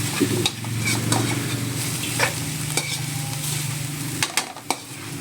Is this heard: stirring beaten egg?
yes